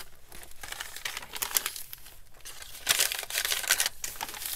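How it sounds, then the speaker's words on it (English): Crinkling and rustling of paper pages being flipped in an upcycled junk journal made from sardine box, gauze box and tags, a steady close crackle with brief louder bursts of handling. "I love the crinkly sounds and rustly sounds of this journal."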